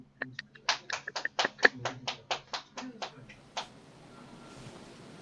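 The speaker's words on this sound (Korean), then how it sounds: "우리 민지가 나올 때 박수로 환영해 주시면 감사하겠습니다." A small audience claps to welcome a ninth-grade student to the stage at a school presentation: about a dozen distinct, fairly sparse hand claps over three seconds that thin out and fade.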